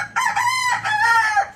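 A large-breed farm chicken calls loudly and close by in a short harsh crowing burst, with one brief break in the middle.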